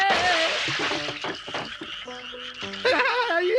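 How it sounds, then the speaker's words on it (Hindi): Cartoon frogs croak in a busy, repeated chorus of loud, close calls, with splashy water-like noises mixed in and no talking. "ये क्या, हमारा सारे मेढक बाहर निकल गए, इन्हें पकड़ने में मेरी मदद करो।"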